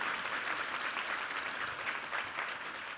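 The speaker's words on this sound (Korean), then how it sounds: "우리 하나님께 감사와 영광의 박수 올려드리겠습니다" A church congregation applauding during a service, dense continuous clapping heard from within the crowd, steady for the whole stretch.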